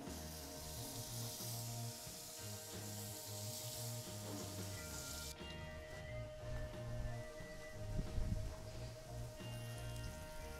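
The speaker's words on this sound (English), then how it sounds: "Now as the oil gets hot, we're going to add the paneer strips and cook these" Paneer strips fry in hot oil in a pan, a soft steady sizzle and crackle close by, fairly faint, with light clatter from handling midway and background music underneath.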